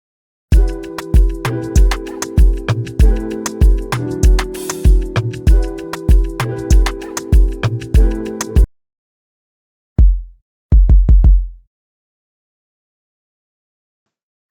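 A jazz-inspired Afrobeat beat made in FL Studio, with punchy kicks, crisp percussion and layered chords looping loudly for about eight seconds, then cut off, followed by a few isolated drum hits and silence.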